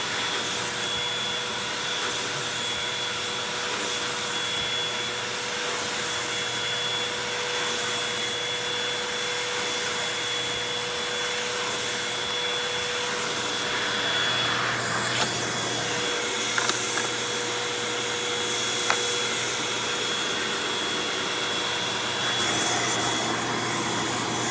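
A Eureka The Boss Smart Vac 4870 MZ-2 upright vacuum cleaner runs steadily with a loud, continuous motor whine and airflow roar, with a few small clicks near the end and no one talking.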